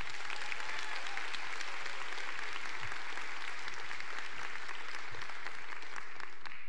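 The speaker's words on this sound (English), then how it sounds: "Let's have a round of applause for the instructors" Audience at a nursing graduation ceremony applauding the instructors, dense sustained clapping from a large crowd with no voices over it.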